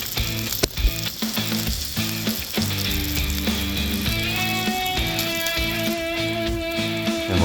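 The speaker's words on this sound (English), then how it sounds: "Now we're giving them a little flip, keeping an eye on them because I want them crispy" Homemade bacon fries in a pan with a loud, continuous crackling sizzle and a few turning clatters, under steady background music.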